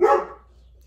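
A single short, loud dog bark close by indoors, fading quickly into silence.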